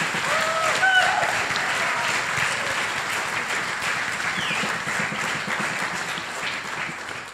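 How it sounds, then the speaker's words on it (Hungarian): An audience at a dance recital applauds the evening's choreographer with a sustained, even wash of many clapping hands, loud and steady, with faint voices and a brief tonal sound near the start. "Kérek neki egy külön tapsot."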